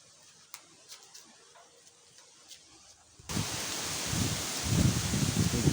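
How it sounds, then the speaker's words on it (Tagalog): Strong wind buffets the microphone outdoors at a split-type aircon installation site, a sudden heavy roaring gust arriving after a quiet stretch of faint ticking and rustling and building louder toward the end. "Medyo malakas ang hangin mga ka-idol."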